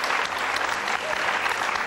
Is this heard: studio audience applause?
yes